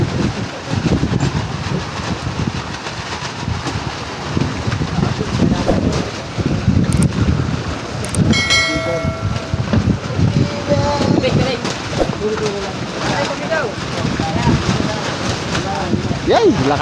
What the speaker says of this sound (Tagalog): Yay, lakas na ang hangin mga idol.